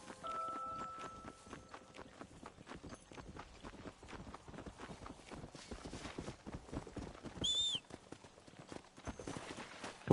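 Horse hooves clip-clop steadily in Red Dead Redemption on PS5 as a ridden horse moves along at a trot, fairly close and moderate in level, with a brief whinny-like squeal partway through.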